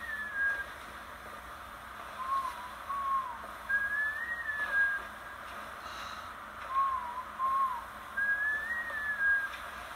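Someone whistles a slow, wandering melody, soft and fairly close, with short gaps between phrases and faint background hiss.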